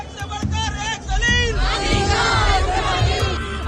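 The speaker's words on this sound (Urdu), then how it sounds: "سڑکوں پر بھیڑ, امریکہ اسرائیل مرد آباد کے نعرے" A street crowd chants slogans against America and Israel, with loud massed shouting voices rising in rhythmic bursts over a dense, close crowd hubbub.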